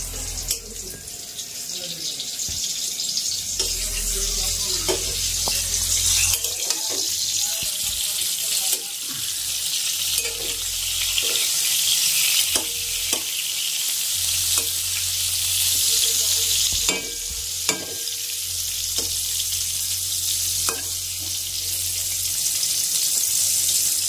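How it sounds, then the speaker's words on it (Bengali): Loud continuous sizzling of pointed gourd frying in a pan, with occasional clinks and scraping from stirring throughout. "আর এই যে এদিকে পটল ভাজা হচ্ছে"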